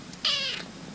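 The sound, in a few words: cat meowing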